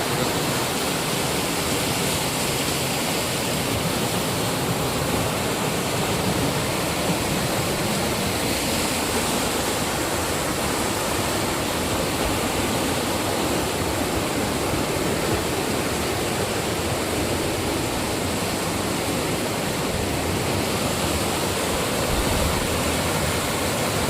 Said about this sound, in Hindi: ये झरना बहुत ही बारिश के दिन में ये इसलिए बहुत तेज पानी आ रहा है इधर